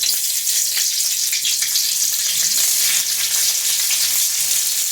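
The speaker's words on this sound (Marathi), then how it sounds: "थोड्याशा मिरच्या ज्या आपल्याला त्याच्यासोबत खायच्या आहेत त्या आता तळून घेते मी" Green chillies stuffed with salt fry in hot oil, a close, loud, continuous hiss and crackle of sizzling that stays even from start to finish with no voices.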